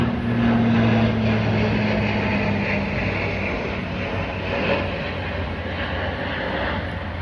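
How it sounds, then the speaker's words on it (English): A plane flies overhead outdoors, a steady broad engine drone with a low hum that holds throughout, loud and continuous, then eases slightly toward the end. "as you heard the plane go by"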